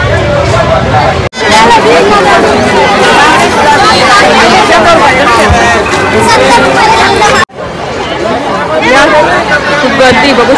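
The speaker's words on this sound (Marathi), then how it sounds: "खूप गर्दी आहे." A dense crowd at a village fair honouring the goddess Mahalaxmi fills the air with loud, constant babble and chatter close around, with brief dropouts, while a nearby voice talks over the throng.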